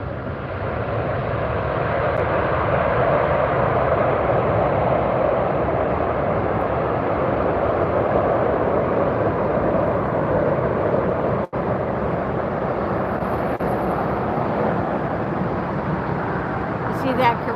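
A Korean Air Boeing 747 taxiing at LAX airport, a loud steady jet engine roar that fills the clip with a brief dropout partway through.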